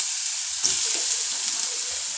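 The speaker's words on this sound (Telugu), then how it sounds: "వేగుతుంది పోపు రెడీ అవుతుంది పోపు వేగాక ఇలా మిర్చి వేసుకున్నాను" Tempering spices and green chillies fry in hot oil, a steady bright sizzle with crackles and small pops, close and continuous, with no talking over it.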